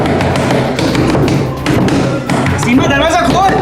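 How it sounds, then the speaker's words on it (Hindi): Knocking on a door during a tense domestic confrontation, a run of loud taps and thuds hammering steadily close by, mixed with raised voices and background music. "सीमा दरवाजा खोल"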